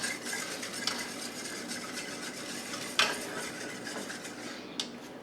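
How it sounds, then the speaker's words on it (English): A spoon stirs banana pudding mixture in a pot on the stove, a continuous scraping swirl with a few sharper clinks against the metal rim, close and fairly loud. "We're going to start adding it in slowly, constantly stirring."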